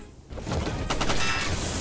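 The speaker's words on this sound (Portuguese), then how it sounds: "Eu vou atirar de volta." Rapid bursts of gunfire in a Front Mission 1st Remake battle, a dense volley that starts after a brief quiet and keeps rattling steadily for nearly two seconds.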